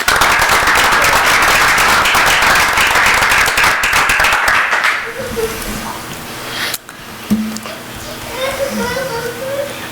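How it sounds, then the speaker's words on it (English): Applause and clapping from an audience at a school district committee meeting, dense and loud for about five seconds before fading into scattered claps and quiet voices. "So round of applause, please."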